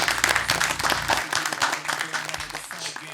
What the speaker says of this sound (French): Maximum d'applaudissements s'il vous plaît.